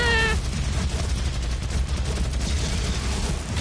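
Dense rapid gunfire from the game DOOM blasts nonstop, loud and close, with a brief electronic tone at the very start.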